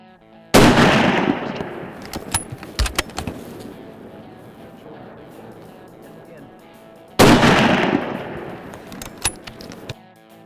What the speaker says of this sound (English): Sitting here shooting on Colorado Buck's rifle